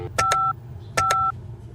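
Two pairs of short electronic phone keypad dial beeps in a video game, each pair followed by a held tone, clean and close with faint background hum.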